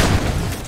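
A rocket blast in the shooter game Half-Life 2 Deathmatch, a short dense boom with a sharp onset that fades quickly, loud and close, with no speech over it.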